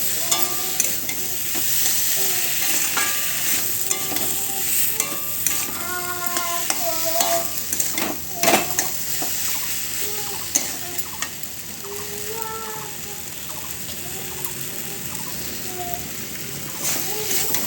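Spiced paneer masala with turmeric sizzles steadily in a pan while a spoon stirs and scrapes it in repeated strokes, and a voice speaks intermittently over the cooking.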